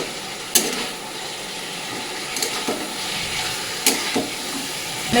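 Water goes into a pan of frying spice paste for a rui fish and potol curry, and a steady, fairly loud sizzling hiss follows, with a few sharper spits and crackles.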